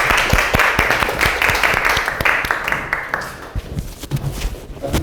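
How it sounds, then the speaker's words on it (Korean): Dense applause from an audience, many hands clapping steadily for several seconds before thinning out toward the end. "박수로 환영해 주시기 바랍니다"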